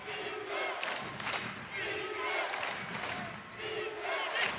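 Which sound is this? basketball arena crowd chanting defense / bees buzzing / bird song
basketball arena crowd chanting defense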